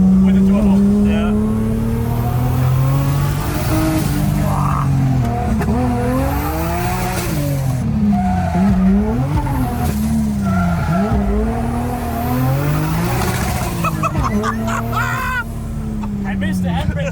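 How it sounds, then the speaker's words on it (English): A 700 hp turbocharged BMW E36 with an M50 engine drifting, its engine revving and wavering loudly while tires squeal in long sweeping bursts, with voices talking over the engine. "M50 might actually be one of the best sounding BMW engines with a turbo"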